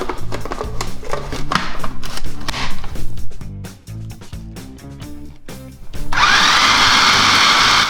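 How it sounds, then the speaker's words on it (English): Rhythmic background music plays at first, then a food processor grinding ham switches on near the end with a loud, steady whirring roar. "So I'm gonna put it in the food processor and give it a whir."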